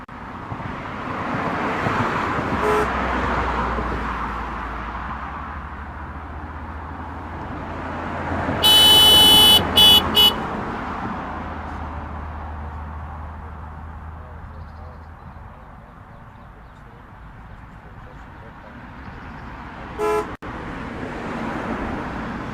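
Road traffic hums steadily as a car horn blares in a cluster of short blasts, then a single briefer honk sounds later on.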